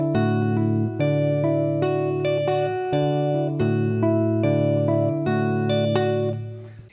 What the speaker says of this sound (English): this is where we have the Afro Cuban Montuno over the first 6 measures